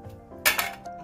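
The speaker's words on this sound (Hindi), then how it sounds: "मैं आपको एक प्लेट में इसे रख कर दिखाऊंगी" Crisp jaggery and sesame revdi set down on a plate, giving a sharp clink and rattle of the pieces against the plate, followed by a lighter knock, close and alone.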